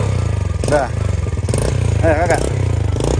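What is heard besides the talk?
motorcycle engine starting and running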